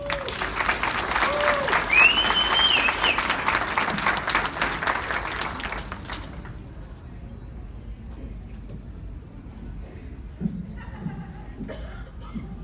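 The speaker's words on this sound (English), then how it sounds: "Please give a round of applause and a very warm welcome" An audience gives a sustained round of applause to welcome a speaker, loud and steady for about six seconds, then fades into quiet room tone with faint murmurs.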